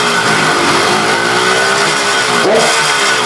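A 32-year-old motorcycle engine revs loudly and close, holding a steady high roar with a brief rise in pitch near the end.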